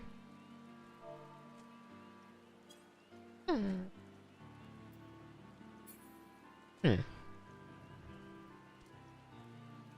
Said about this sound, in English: All this rain can't be good for the plans.